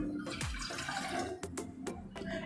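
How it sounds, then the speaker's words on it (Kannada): Water pours and splashes steadily into a pot nearby, about one cup for masala tea, with a few light metallic clinks over the running stream. "ಇದರಲ್ಲಿ 1 ಕಪ್ನಷ್ಟು ನೀರನ್ನ ಹಾಕೊತಾ ಇದ್ದೀನಿ"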